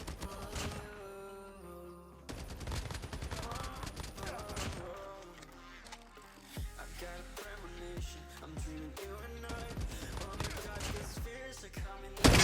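A DR-H rifle fires in Call of Duty Mobile with a BR build: fast, continuous automatic bursts of sharp cracks that are steady and loud, set over an underlying musical bed.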